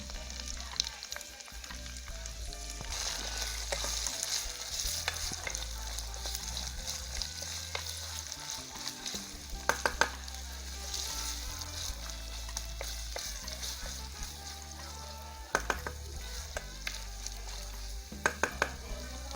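Carrots for spring rolls fry in a pan with a steady sizzle, broken by occasional sharp clicks and scrapes of a utensil against the pan.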